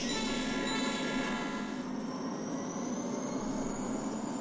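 Continuous rolling drone of a train moving in the Trainz simulator, steady and fairly loud, with a slowly rising whine, no talking.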